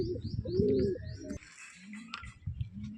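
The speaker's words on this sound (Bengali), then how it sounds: "এই যে বন্ধুরা এটা ম্যাদ্রাজ নর, এটাও সেলে আছে।" A male Madras pigeon in a cage gives a few throaty, rolling coos up close, with faint chirps of other birds in the background.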